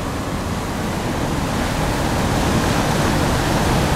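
Churning wake water behind the cruise ship Azamara Quest leaving Civitavecchia, Italy, a loud, dense, unbroken rushing hiss of foaming bubbles that holds steady, with no voices.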